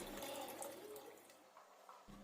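Water poured from a glass into a pan of fish curry gravy, a soft close splashing pour that fades out after about two seconds.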